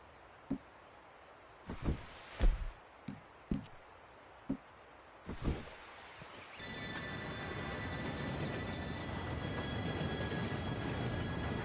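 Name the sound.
train arriving, from the video game Red Dead Redemption 2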